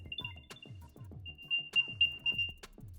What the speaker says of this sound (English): As you can see, that sound is coming from this little AirTag.